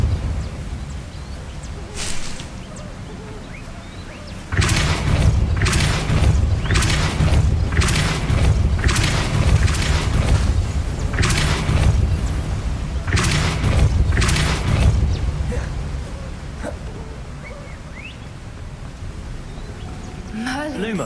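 Depulso force spell cast in Hogwarts Legacy, heard as a loud booming burst followed by a series of heavy thumping impacts and crackling blasts that trail off, with a voice speaking over them.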